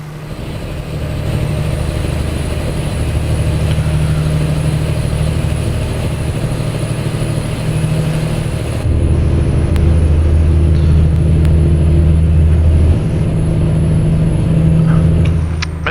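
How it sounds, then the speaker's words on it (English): A heavy semi-truck engine drones steadily in American Truck Simulator while hauling a G3520C gas generator load toward Los Angeles, California, a loud low rumble with a faint high whine, no talk. "Driving this truck."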